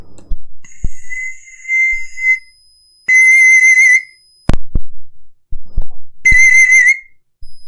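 A pan flute is blown hard and loud in short sustained high notes, three bursts separated by breaths and small thumps, heard up close with no voice over it.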